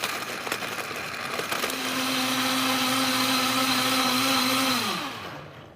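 A Vitamix Professional Series 750 blender runs its smoothie program on ice: a loud, steady motor whir that holds its pitch for several seconds, then spins down and stops on its own near the end.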